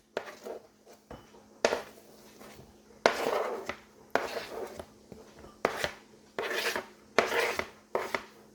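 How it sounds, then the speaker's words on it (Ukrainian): Repeated knife strokes slicing through onion onto a cutting board, short crisp bursts in an uneven rhythm, close and fairly quiet, with no voices. "Тепер нарізаємо соломкою цибулину."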